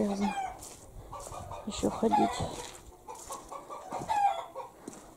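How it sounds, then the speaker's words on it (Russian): Chickens cluck and fight in a damp, muddy yard: agitated squawks and clucking bursts come close and in uneven flurries, with a person speaking briefly in between. "Куры дерутся."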